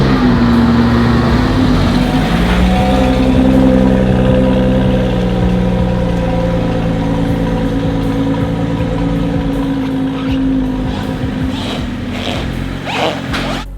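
A BMW X3 35i's turbocharged N55 engine rumbles steadily as the SUV is pulled into a repair shop, a loud, even idle-like hum with a few light clicks and knocks near the end.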